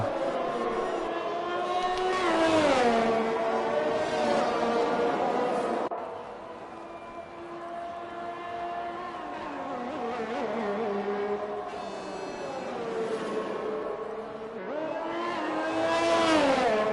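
Several sim race cars in an eRacing league event at Suzuka scream down the back straight, their engine notes rising and falling in steady overlapping sweeps, loud and continuous throughout with no pauses.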